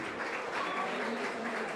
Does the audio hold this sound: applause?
yes